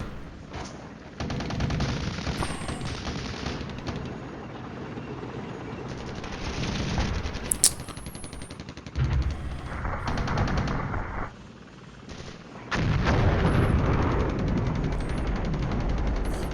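Artillery fire in the Cold War wargame Flashpoint Campaigns: loud, dense bursts of booming gunfire and blasts that roll on in sustained waves, with no voices.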